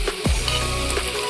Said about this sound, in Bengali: এই দেখো বন্ধুরা কি সুন্দর আমাদের পেঁয়াজটা লাল লাল করে অল্প ভাজা হয়ে গেছে